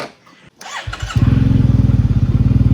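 A modified Yamaha TMAX maxi-scooter fires up after a few thumps and settles into a loud, close, pulsing throaty engine note.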